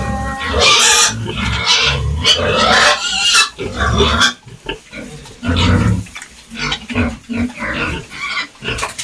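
Pigs on a backyard hog farm give loud, close grunts and harsh squeals in irregular bursts, with short quiet gaps between calls.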